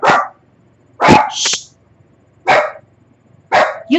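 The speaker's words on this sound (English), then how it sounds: "that's my dog" A pet dog named Yuki barks loudly and close by indoors, four sharp separate bursts about a second apart with a yip mixed in, and a person briefly shushes it.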